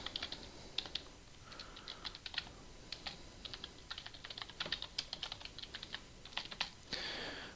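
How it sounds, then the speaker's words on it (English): Fingers typing on a computer keyboard, quiet close clicks and clacks in uneven bursts with short pauses, a longer keystroke run at the end, alone without talk. "let me just type it all out"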